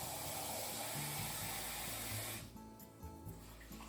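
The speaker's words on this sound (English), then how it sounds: "So I'm going to rinse it." Water runs and splashes as rice is rinsed in a bowl, first a steady full rush of pouring water, then it eases into softer swishing and trickling.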